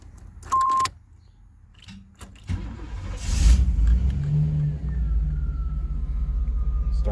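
A Chevy Camaro RS 25th Anniversary Heritage Edition with 96,000 miles cranks and fires up after a few clicks and a chime, then settles into a loud, steady rumbling idle close by.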